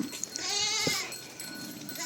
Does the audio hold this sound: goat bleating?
yes